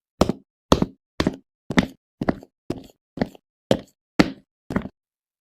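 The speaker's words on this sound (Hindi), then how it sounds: "पड़ोसी ने उसके मुंह पर दरवाजा बंद कर दिया" A house door in a neighbour's home slammed shut on someone, heard as a series of ten sharp, evenly spaced knocking thuds, close and loud, with silence between each.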